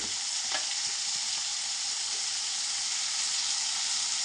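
Tomatoes with a pinch of turmeric and chili powder frying in a pan, giving a loud, continuous sizzle with faint stirring scrapes and no voices.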